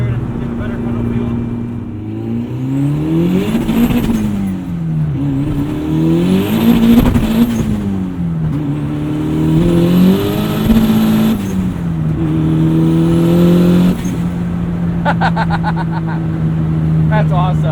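A 2005 VW Jetta GLI with the 1.8-litre turbo engine accelerating, engine note repeatedly climbing and dropping through gear changes, loud and sustained from inside the car, with people talking over it.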